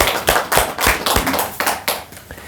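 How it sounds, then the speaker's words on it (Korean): A small audience claps in a rhythmic, evenly spaced beat, each sharp hand clap distinct and close, a loud unified round at a talk. "큰 박수 부탁드립니다."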